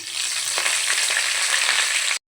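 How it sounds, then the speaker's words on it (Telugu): Garlic and curry leaves fry in a hot pan with a loud, steady close-up sizzle that holds evenly for about two seconds, then cuts off abruptly into silence. "వేగాయి కదా వెల్లుల్లి వేస్తున్నాను కరివేపాకు వేస్తున్నాను"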